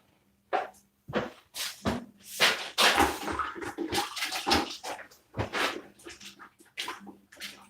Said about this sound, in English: Now I'm squeezing out my roller in a bucket of water.